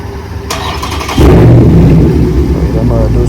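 A car engine with an aftermarket exhaust fires up close by, a sharp onset followed by a loud, rough, steady rumble, with people talking nearby.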